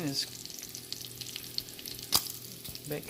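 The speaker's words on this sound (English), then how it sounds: "fat is rendering down nicely, and I'll just leave it like that while the soup is cooking" Bacon fat sizzles and renders in a pot on the stove while split pea soup cooks, a steady close frying crackle with scattered pops and one sharper spatter near the end.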